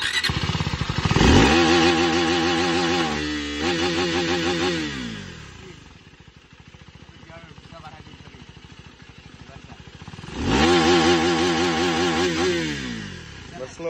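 A KTM Duke 390 third-generation motorcycle engine revs hard and close, climbing to loud sustained high-RPM blasts, dropping back to a rough idle in the middle, then revving up strongly again near the end.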